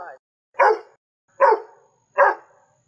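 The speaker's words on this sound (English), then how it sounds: "Dog." A dog barks three times in quick succession, loud and close, each bark short and sharp with a brief gap between them.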